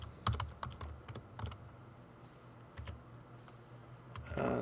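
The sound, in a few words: typing a password on a computer keyboard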